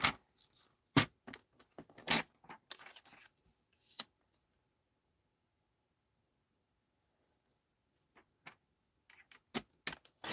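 Scissors cutting card scraps in half, a series of quick crisp snips and clicks in two bursts separated by a few seconds of near silence, close and fairly quiet.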